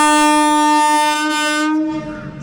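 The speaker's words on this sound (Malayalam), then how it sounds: "അപ്പോൾ ഇതാണ് നമ്മളിവിടെ കൊണ്ടുവന്നിട്ട് വന്ദേ ഭാരത് എക്സ്പ്രസ്." A Vande Bharat Express sounds a long, loud, steady horn blast with rich harmonic tones, then the horn cuts off and quieter rolling train noise follows near the end.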